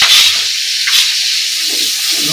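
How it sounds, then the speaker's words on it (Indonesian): Tempeh slices fry in hot oil, a loud continuous hiss and sizzle with crackling bursts, heard close up without talk. "Ini tempenya digoreng dhisik guys."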